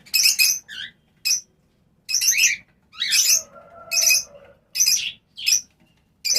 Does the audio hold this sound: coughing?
no